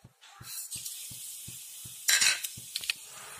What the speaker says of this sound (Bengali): ফোড়ন দিচ্ছি কালা জিরে আর অল্প মেথি